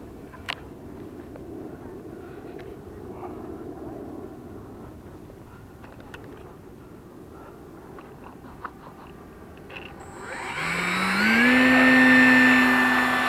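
A Freewing Spirit 815 RC model airplane: after quiet outdoor background with a few faint ticks, its electric motor spools up near the end into a loud, rising, high-pitched whine that then holds steady.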